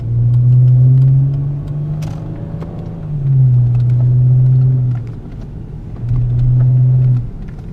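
A car with a newly replaced lower control arm and ball joint is driven over a bump and through slalom turns; a steady engine hum swells and eases in three waves, with no talking.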